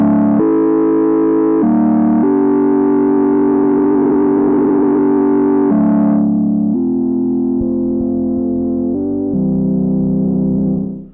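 Synthesizer noise oscillator patch set up as an electric piano tone, playing a loud sustained sequence of chords with buzzy, distorted harmonics; the top end darkens partway through, and no one talks.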